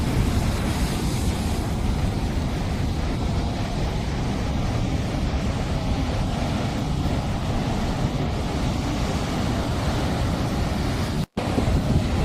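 Big ocean waves roar continuously at Nazaré, Portugal, a loud, dense rumble of surf mixed with heavy wind buffeting, with one brief dropout near the end.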